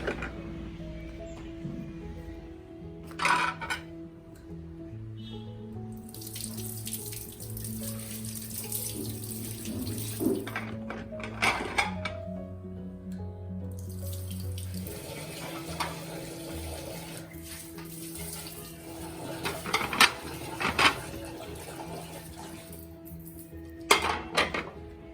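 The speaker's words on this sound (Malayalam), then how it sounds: "ഞാനൊന്ന് പ്ലേറ്റൊക്കെ ഒന്ന് കഴുകിയെടുക്കട്ടെ" Plates being rinsed under a running kitchen tap without soap during pre-Ramadan cleaning: a steady stream of water with repeated clinks and clatters of dishes, close and continuous, no talking.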